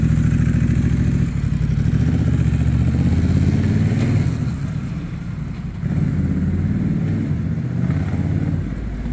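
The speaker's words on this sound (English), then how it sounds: "So Emil's going to take off on my Rebel DCT" A Honda Rebel DCT motorcycle rides off, its mid-pitched engine running loud and steady throughout, dipping briefly midway before picking up again with no talking.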